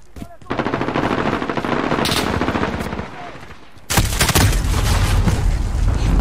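Submachine gun fire rings out in a Call of Duty Modern Warfare multiplayer match on PS4. Two loud, rapid automatic bursts are separated by a brief pause.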